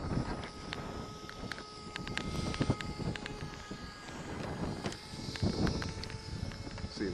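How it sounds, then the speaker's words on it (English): Gusty wind blows outdoors during an old-school Traxxas Bandit 2WD RC car speed run, a steady rushing rumble that swells and eases across the whole stretch, with faint scuffing sounds like footsteps. "It's a little windy out here."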